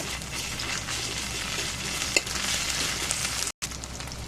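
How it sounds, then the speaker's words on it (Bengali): A steady, hissing sizzle of ground cumin paste frying in a pan, with one soft utensil tap and a brief cut near the end. "এখন এটা ভালো করে একটু ভেজে নিব।"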